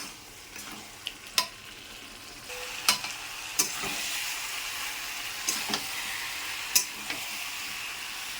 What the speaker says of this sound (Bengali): ভেজে রাখা আলুটা আর চিংড়ি মাছটা একসাথে দিয়ে দিয়েছি এবার দিয়ে দেবো এঁচড়টা দিয়ে আবার খানিক্ষণ কষাবো